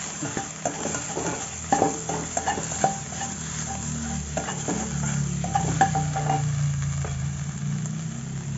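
Vegetables stir-fried with oyster sauce and seasoning powder in a vegetarian home kitchen, with a steady close sizzle, repeated scraping and clinking of a spatula against the pan, and no talking.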